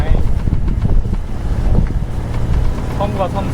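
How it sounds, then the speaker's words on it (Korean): Rough sea waves slap and wash around a small sailboat with a faulty engine off the Viking coast, mixed with heavy wind buffeting the microphone and a faint voice in the background. "파도가 만만치 않구만"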